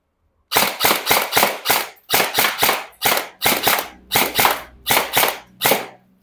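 An airsoft ENC gun fires a sequence of sharp, loud, close shots, roughly fifteen reports in quick bursts of two to four separated by brief pauses, with no talking.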